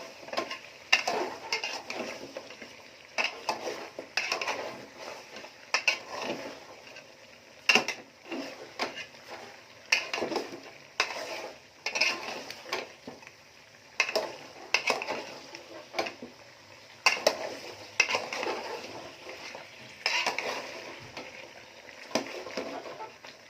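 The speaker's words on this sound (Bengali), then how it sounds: "আলু আর রসুন দিয়ে দিয়েছি, আমি ভালো করে কষাই নেব।" Meat with potatoes and garlic being stir-fried in a pot, a utensil scraping the metal in steady repeated bursts over a low sizzle, close and with no talking.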